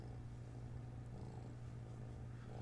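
A kitten purrs on a person's lap: a steady, close, continuous low rumble that holds evenly throughout with no pauses and no talking.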